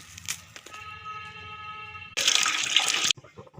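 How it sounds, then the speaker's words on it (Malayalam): Water pours from a tap in a burst of about one second, loud and close, followed by a small clatter, while a fish curry is being made in a kitchen. "ഇനി ആവശ്യത്തിന് വെള്ളം ചേർത്ത് കൊടുക്കാം."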